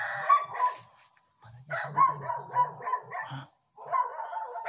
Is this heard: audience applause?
no